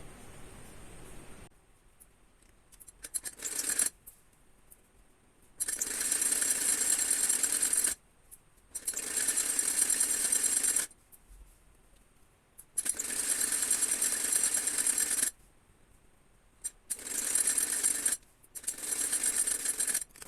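An electric sewing machine stitches salwar pant parts together in several loud, steady whirring runs lasting a few seconds each, separated by short pauses.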